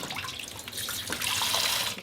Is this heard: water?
yes